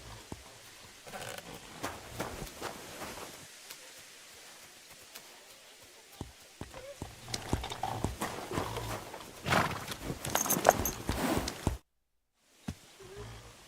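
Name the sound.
horse neighing and hooves in stable, from video game Kingdom Come: Deliverance 2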